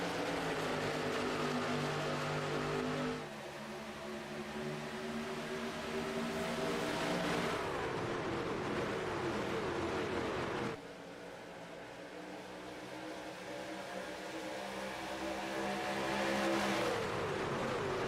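Pickup trucks racing at Talladega in the iRacing simulator: a loud, continuous pack of engines droning together, pitch rising and falling as the field passes, with abrupt shifts in tone every few seconds and no talk.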